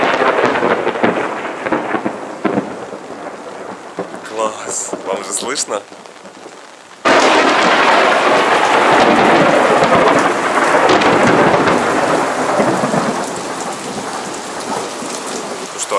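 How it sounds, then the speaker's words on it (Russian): A thunderstorm with heavy rain pouring down and rolls of thunder; a person speaks briefly early on before a sudden loud surge of downpour. "Это реальная настоящая гроза."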